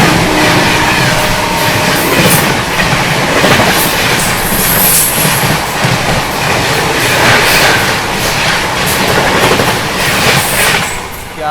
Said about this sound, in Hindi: सामने से आ रही है भाई बढ़िया रफ्तार में शालदा से चलकर बीकानेर की ओर जाने वाली AC दुरंतो एक्सप्रेस।